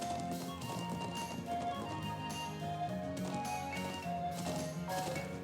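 Horse hooves clip-clop steadily in the Trails of Cold Steel video game, a continuous even rhythm blended into a dense musical score with no talk.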